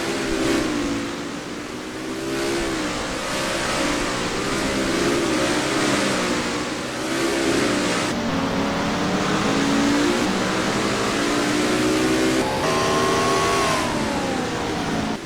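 Race car engines roar in NASCAR Racing 2003, a steady layered drone of several cars at full throttle that rises and falls in pitch as they pass and shift, loud throughout with no voices.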